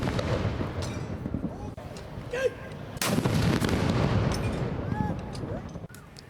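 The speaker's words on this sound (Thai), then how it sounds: "โดยยิงปืนใหญ่ด้วยดินดำหรือดินไม่มีควัน" A deep ceremonial cannon salute boom rolls out, followed by a sustained rumbling echo, with faint distant voices in the background.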